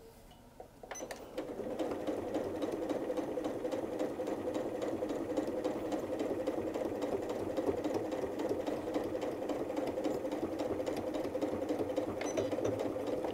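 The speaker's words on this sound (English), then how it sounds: "we're going to lower the foot and sew back along the exact same line." Sewing machine stitching fabric for a drawstring bag, a steady, rapid mechanical whirring and clatter that starts after a brief click and runs continuously, close and clear.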